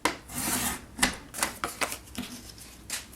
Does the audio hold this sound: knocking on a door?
no